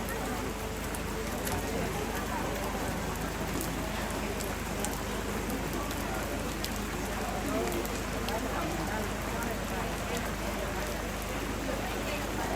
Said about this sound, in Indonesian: Ini sudah sepanjang hari hujan dari tadi sore hingga malam.